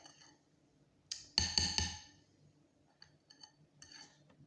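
Scoops of three-ingredient peanut butter cookie dough land on a metal cookie sheet, a few close clattering metallic knocks followed by lighter clinks and taps, with no one speaking.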